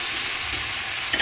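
Ginger paste, green chilies and tomato masala frying in a pan, a dense continuous sizzle close up and without speech, ending in a brief scrape of stirring.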